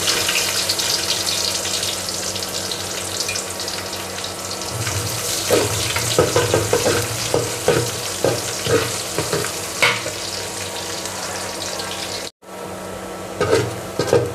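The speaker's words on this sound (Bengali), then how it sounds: "কালো কালো করে ভেজে নিব দিয়ে দিচ্ছি রসুন কুচি দিয়ে দিচ্ছি পেঁয়াজ কুচি" Chopped garlic and onion frying in oil in a pan, a steady close sizzle with bursts of stirring and scraping, plus a brief near-silent gap toward the end; no one speaks.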